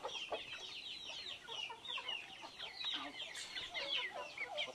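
Free-range chickens cluck and chatter in a busy flock at feeding time, a steady layered stream of calls at moderate distance with no speech.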